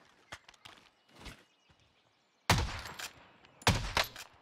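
MK2 gunfire in a video game, a few faint scattered shots followed by two louder, close bursts of rapid sharp reports.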